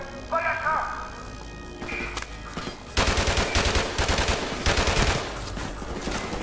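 Rapid bursts of automatic gunfire from Call of Duty Modern Warfare Remastered, loud and close, rattling almost continuously through the second half, with voices and game chatter heard beneath the shooting early on.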